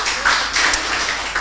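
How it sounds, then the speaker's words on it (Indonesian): Short burst of hand clapping from a church congregation, several loose rhythmic claps, fairly close and mid-level in volume, with no talk over them. "Tepuk tangan buat Tuhan Yesus."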